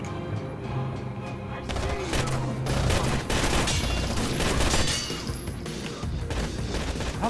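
Dense, continuous automatic gunfire and crashing impacts from the shooter game Rainbow Six: Vegas, loud and sustained throughout, with brief heavier bursts and no clear speech over it.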